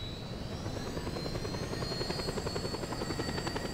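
A helicopter in the video game Just Cause 2 thumps with steady rapid rotor chop and a high turbine whine, constant and fairly close, with no voices.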